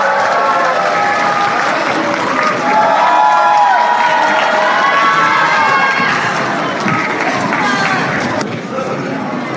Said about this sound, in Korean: 하지원 선생님을 큰 박수로 맞이해 주시기 바랍니다